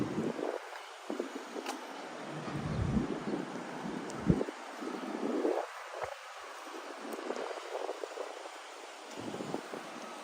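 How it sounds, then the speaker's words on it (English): Outdoors downtown on a summery day, gusts of wind buffet an uncovered microphone in uneven low thumping bursts over faint street ambience, with no one speaking. "yeah, we got a bit of wind"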